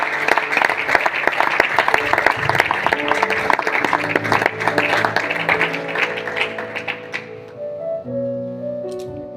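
A church congregation applauds steadily with dense clapping for several seconds, then it fades as sustained music tones take over.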